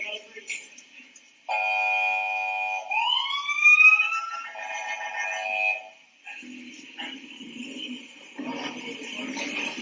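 A police siren wails with steady tones that sweep upward, loud and near, then shifts pattern while people talk and shout underneath.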